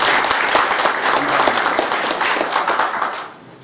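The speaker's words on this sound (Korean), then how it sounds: "여러분들 제 마음에 맞으면 박수로 한번" Warm applause from a group at a town hall meeting with the mayor fills the room, holding strong for a few seconds before tapering off at the end.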